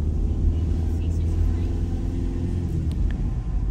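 Steady, loud low rumble from inside a car driving along a narrow road in Guernsey, heading toward Petit Bot Bay. Engine and road noise hold constant with no sharp changes.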